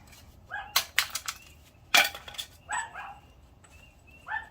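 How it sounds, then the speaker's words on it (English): A small dog barks and yips in quick irregular bursts nearby, loud and sharp, in a workshop setting during a tool test with no talking. "Can't do anything about the dog. That dog's crazy."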